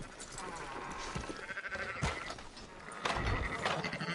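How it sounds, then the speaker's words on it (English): Sheep bleat several times in the video game Red Dead Redemption 2 over a busy, noisy background, with a brief bit of talking mixed in. "Fine sheep."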